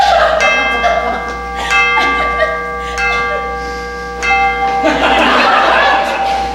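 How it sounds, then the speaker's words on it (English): A cathedral bell in a stage production tolls several times with long ringing overtones, each strike decaying into the next, while laughter and murmuring from a theater audience rise faintly underneath. "Cathedral bell in me."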